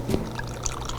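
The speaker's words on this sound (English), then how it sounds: "it's a quick upside down straight pour into the glass until the thing clicks" Wine poured from an upside-down bottle straight into a glass through a one-ounce measuring spout, a short close trickle of liquid.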